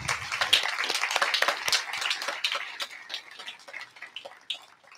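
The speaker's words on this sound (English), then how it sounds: "a round of applause for our classified staff" A crowd at an 8th grade promotion ceremony applauds the school's classified staff, a lively burst of clapping at moderate distance that gradually thins and fades over several seconds.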